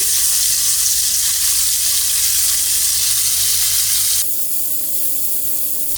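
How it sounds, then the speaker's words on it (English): Ginger garlic paste with crushed green cardamoms and cloves frying in hot oil, a loud, dense, continuous sizzle that drops slightly in intensity near the end. "add ginger garlic paste. Cook it for about a minute or two."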